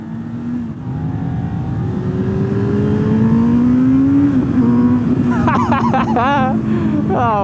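A Honda CB650R motorcycle with a loud aftermarket exhaust drones steadily and its engine note rises as it revs, while voices talk over it.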